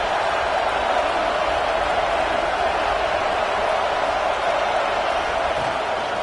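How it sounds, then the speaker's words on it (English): Dense, steady roar of a stadium crowd at an Oregon Ducks college football game, a loud continuous wash of cheering voices with no breaks, heard from within the stands. "Listen to the crowd energy here in the early going"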